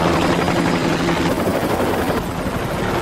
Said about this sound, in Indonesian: Earl melihat helikopter di atasnya